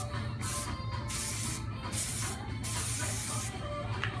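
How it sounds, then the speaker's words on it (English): Hairspray sprayed onto a finished hairstyle in four short hissing bursts separated by brief pauses, close and fairly loud, with no talking. "So I'm just going to spray just a little bit of it."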